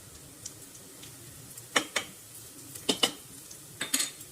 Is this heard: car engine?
no